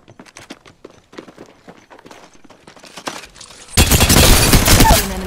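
Video game gunfire during a ranked match: a scatter of short, sharp shot and footstep-like clicks, then a dense, loud burst of sustained firing near the end.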